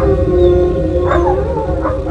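Two poodles and a mixed-breed dog howl loudly together in a sustained, wavering chorus, with rising yips breaking through near the end.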